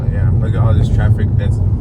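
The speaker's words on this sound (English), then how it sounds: "look at all this traffic" Road traffic idling in line at the Rio Grande border crossing near Acuña, Coahuila, a steady low engine rumble with someone talking over it.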